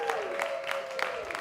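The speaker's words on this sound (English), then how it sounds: "Give yourselves a round of applause," An audience at an evening awards ceremony claps in a brief burst of dense, rhythmic applause. A tonal sound runs faintly beneath it.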